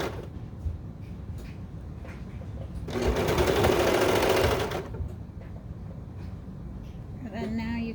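A serger stitches a stretched waistband on baby bummies in one steady buzzing run of about two seconds, close and loud, with a voice speaking quietly before and after.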